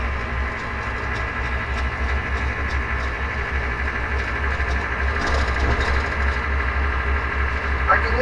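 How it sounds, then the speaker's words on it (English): Ford 7.3 diesel in a Ford OBS truck idling with a steady low rumble, a faint turbo whistle spooling above it, heard close and continuous without talk. "I can even hear the turbo making a little bit of boost right now"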